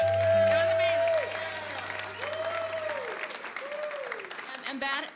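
Studio audience applauding at a live radio show, a loud burst of clapping that slowly thins out while a speaker's voice carries on over it.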